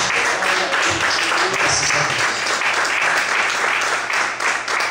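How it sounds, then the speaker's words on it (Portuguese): A church congregation applauds during an evening service, a full, loud burst of many hands clapping that holds steady throughout and eases slightly at the very end. "Você pode aplaudir o Senhor nesta noite?"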